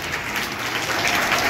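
An audience at a school function applauds the winners, a brief burst of dense, even clapping from many hands in a hall.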